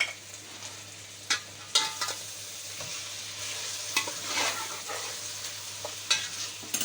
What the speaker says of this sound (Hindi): अब इसको चला के और पकने के लिए रख दूंगी